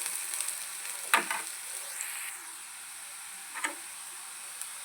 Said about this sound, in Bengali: বেশি ভাজবো না, এইরকম হালকা করে ভেজে নেব। এর মধ্যে এবার মশলাগুলো দিয়ে দেবো।